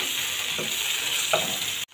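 Onion, tomato and green chilli sautéing in hot oil, a steady close sizzle with a couple of stirring scrapes before it cuts off abruptly near the end.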